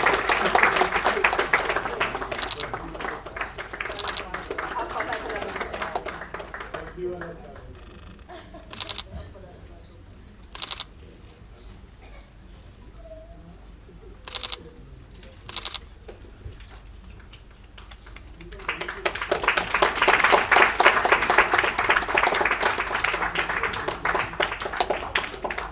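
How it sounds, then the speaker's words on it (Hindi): Hearty audience applause for a guest at a foundation-day arts event in Shimla: dense, loud clapping that fades to a quieter stretch with isolated sharp claps and clicks, then swells back to full, sustained applause. "एक बार जोरदार तालियां अभिजीत सर के लिए।"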